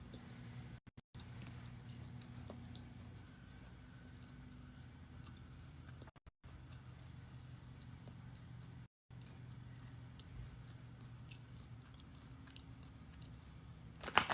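Faint, steady crunching of vegetable chips being chewed close by during a quiet live stream, with no talk over it.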